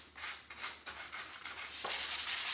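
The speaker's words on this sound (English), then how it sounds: "by giving it a very, very light scuff sand" Light scuff sanding of a wood surface before staining, a series of soft, close rasping strokes with the grain, rhythmic at first and then a longer, brighter continuous rub toward the end, with no talking.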